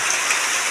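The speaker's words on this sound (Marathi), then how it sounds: "हे असा दुमदुम पाऊस चाललाय" Heavy monsoon rain pours down at a forest ashram along the Narmada riverbank, a dense, steady hiss of drops drumming on surfaces with no pauses or voices.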